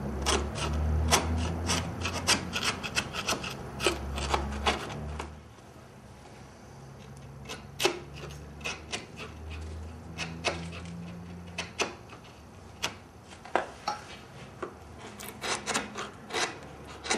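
A chisel scrapes and pares at a corner of wooden window trim in repeated short, sharp strokes, with some heavier rubbing early on, close and fairly loud with no talking.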